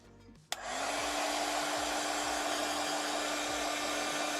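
A hair dryer or heat tool switches on with a click and then blows steadily as it dries white paint, a loud continuous whirring roar that holds for several seconds on its own.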